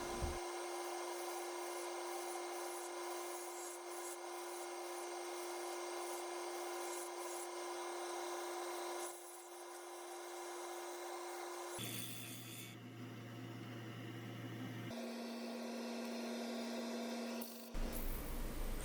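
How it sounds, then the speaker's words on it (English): Steady, continuous sanding hiss of abrasive on a cherry wood turned platter, running for a long stretch from 80 grit up to 320 grit, with a few shifts in tone as the pressure or paper changes. "Sanding and sanding and sanding, starting at 80 grit, and I go all the way to 320 grit on this piece."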